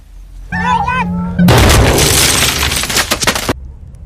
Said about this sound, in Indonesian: Ketika ia meledak, peluru di dalamnya akan berhamburan ke segala arah.